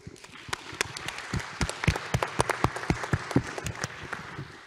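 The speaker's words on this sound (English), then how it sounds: "let's have a round of applause for the experts." A round of applause for the experts after a bioinformatics and precision medicine talk: scattered individual claps building into a fuller burst, the sharp hand claps close and distinct with a faint room murmur beneath.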